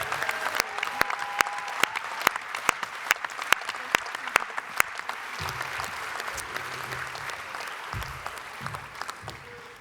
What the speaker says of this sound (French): je vous demande un tonnerre d'applaudissements pour les services communication